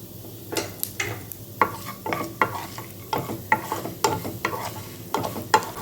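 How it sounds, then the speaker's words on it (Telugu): Tempering seeds dropped into heated oil in a pan for banana leaf rice crackle and sizzle loudly, with repeated sharp scraping strokes of a spoon stirring against the metal, close up and without talking. "తాలింపు గింజలు వేసుకోవాలి."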